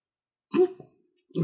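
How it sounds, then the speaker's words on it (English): A person eating a chocolate-based hot sauce gives a single sharp hiccup, close and fairly loud after a brief silence, and a second throaty catch starts just as the clip ends. "the hiccup's coming"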